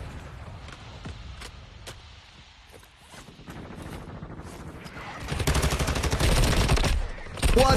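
Video game gunfire with distant scattered shots at first, then a sustained burst of rapid automatic fire that swells louder in the last few seconds.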